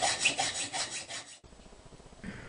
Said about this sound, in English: I made a sort of reamer out of 3/8 inch rod, which I'd use to expand the holes a little bit so that the shaft fits more easily